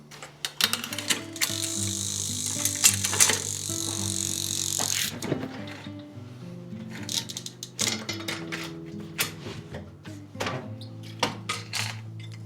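Ratcheting clicks and metallic clatter ring out as the wheel comes off a Rivendell Roaduno bicycle, with a rapid freewheel ticking burst, then scattered knocks and rattles of parts being handled nearby.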